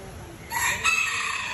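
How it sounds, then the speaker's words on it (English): Chickens and a rooster at a mini zoo, with a crowing call rising out of a quiet farmyard background partway through, fairly close and brief. "Whoa, a lot of chickens."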